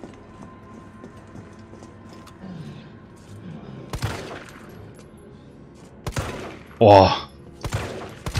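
In the Resident Evil 3 Remake video game, a few sharp gunshots ring out several seconds apart. A player briefly exclaims between them over quiet game ambience.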